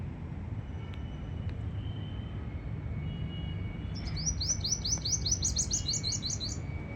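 A bird gives a quick run of bright, repeated chirps partway through, heard over a steady low rumble of distant machinery.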